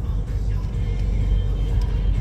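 Car driving along Greencastle Road at the speed limit in Indiana, a steady close low rumble of engine and road noise throughout, with no talking.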